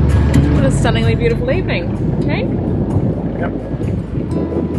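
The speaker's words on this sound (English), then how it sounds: "That wind has come round from the north now and it is cold." Cold north wind buffets the microphone aboard a sailboat, a steady broadband rush with water and hull noise beneath, while people talk briefly over it.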